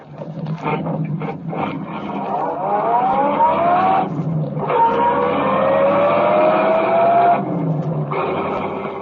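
Car engine roaring through a radio drama car chase, sustained and loud with rising revving tones across the scene, a brief break near the middle before the engine surges again.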